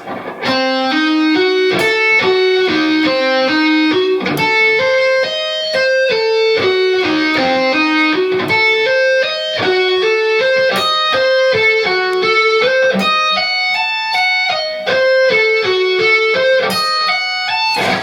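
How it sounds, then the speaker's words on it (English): Slow, evenly picked string-skipped diminished arpeggios on guitar climb and fall in a steady stepwise pattern, each note ringing clearly with a bright, slightly overdriven tone throughout. "So that string skipped diminished arpeggios nice and slow sounds like this."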